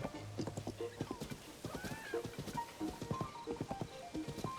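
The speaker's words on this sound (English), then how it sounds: "I love the riding on horse theme in this game" Rhythmic clip-clop of horse hooves at a steady riding pace in the video game Zelda: Tears of the Kingdom, with a brief whinny partway through, fairly close and moderately loud.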